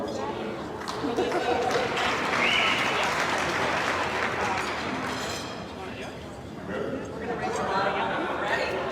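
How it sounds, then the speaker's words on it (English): An audience at a charity gala applauds the host, a steady round of clapping mixed with crowd chatter and voices, swelling at first and easing off toward the end. "Y'all can clap for her"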